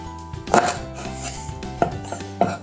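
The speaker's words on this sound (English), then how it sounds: "Cut some ginger" A knife chops ginger on a cutting board, giving three sharp, close knocks spaced about a second apart.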